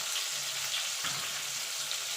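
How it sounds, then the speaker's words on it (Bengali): Small potato pieces with salt and turmeric frying in a pan, a soft, steady sizzle with faint crackles, close and continuous with no talk. "এবার আলুটাকে লাল লাল করে ভেজে নেব।"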